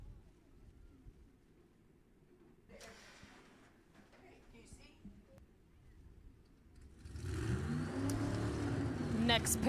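Drag racing cars firing up their engines at Sacramento Raceway, a faint distant rumble and clatter at first, then a louder, rough engine roar building near the end.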